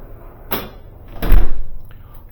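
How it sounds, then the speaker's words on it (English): A door swinging shut under a door closer adjusted to a slower closing speed, ending in a single soft thud near the middle, with a lighter knock or rustle just before it. "If I slow it down, you'll see the door is going to be a little bit slower."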